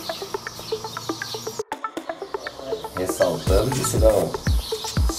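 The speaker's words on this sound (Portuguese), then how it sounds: "Ouça o som dos pássaros." Birds singing among mountains on a pilgrimage route, with rhythmic, repeated sharp chirps and trills close by, joined by fuller overlapping calls in the second half, while a voice talks in between.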